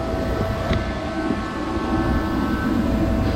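A Poulan Predator chainsaw engine screams at full throttle, around 11,000 rpm, during tuning. It gives a loud, steady, unbroken drone with no pauses.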